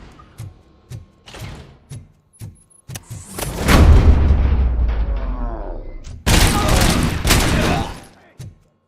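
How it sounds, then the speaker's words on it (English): Heavy gunfire in the video game RoboCop: Rogue City erupts in sustained loud bursts with booms and rattling, preceded by a few sharp mechanical clicks and thuds. "Am I hearing gunshots?"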